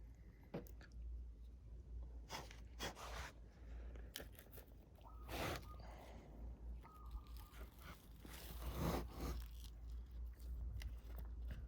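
A Plinia Grimal jaboticaba stem is cut for a graft onto a Sabara jaboticaba rootstock in Hawaii, giving several faint, sharp snips and crunchy clicks spread out over quiet handling noise.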